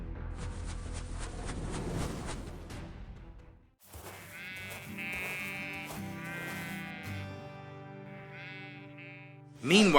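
Sheep bleat in an animated cartoon, a few wavering, nasal bleats following music and narration, moderately close and clear, with a final louder bleat at the end.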